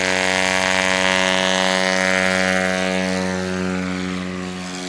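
Husky propeller airplane engine at a STOL championship in Sulphur Springs, Texas, a loud, close, steady droning buzz with strong harmonic tones that fades slightly as it pulls away.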